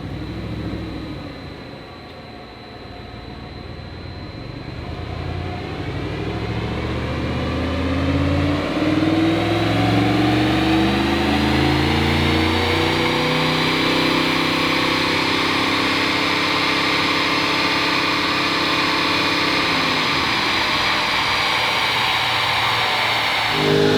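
Audi R8 engine on a dyno, starting low and swelling into a long sustained high-rpm wail with rising and falling harmonic sweeps, loud and steady until it eases off near the end.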